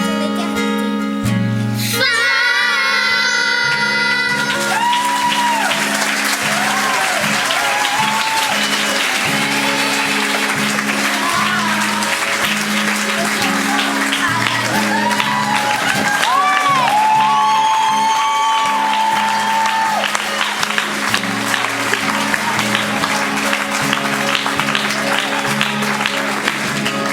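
Sustained applause from a school-fête audience after a performance, loud and steady with scattered whoops and shouts, beginning right after a burst of sung music and continuing for nearly half a minute.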